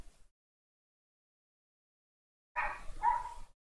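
A small dog gives one brief bark or yelp, moderately close, after a long stretch of silence.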